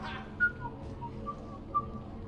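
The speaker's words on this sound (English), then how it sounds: "Are you whistling?" Whistling from a character in the video game Mass Effect 3: three short, bright whistled notes spaced about a second apart over a low ambient game background.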